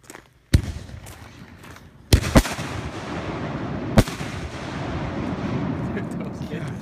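Fireworks from a large home stockpile are set off outdoors, giving several sharp, loud bangs spaced a second or two apart over a steady rumbling background, with a distant voice faintly present.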